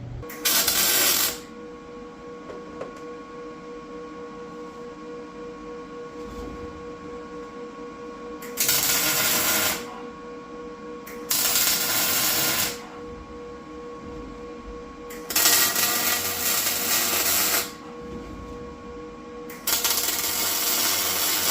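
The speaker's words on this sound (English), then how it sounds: "I'm gonna go get the welder and tack that up." Tack welding on a Jeep J10 Mule rear cage: several separate loud crackling welder bursts, each lasting one to two seconds, with quieter shop hum between them and no voices.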